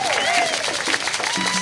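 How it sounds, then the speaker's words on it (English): Brief audience applause and crowd noise at a community housing rally, loud and continuous, with a voice speaking over it. "give yourselves a round of applause"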